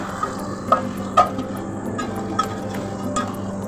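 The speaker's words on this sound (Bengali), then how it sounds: "দেখেন আমি এখন মুরগিগুলো দিয়ে দিলাম মুরগি ভাজাগুলো দিয়ে দিলাম" Fried chicken pieces added to a masala for farm chicken bhuna and stirred, a low steady sizzle with a few sharp spoon scrapes and clinks against the pan, close and unaccompanied by talk.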